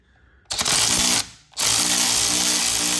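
Power tool backing out a bell housing bolt on a 2013 Ford Taurus SHO during engine removal: a loud, close whirring burst, a brief pause, then the tool runs again steadily with a rhythmic ratcheting hum.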